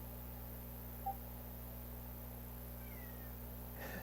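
A house cat gives a brief, faint meow, then a softer trailing cry. Both are thin against a steady low electrical hum in an otherwise quiet room.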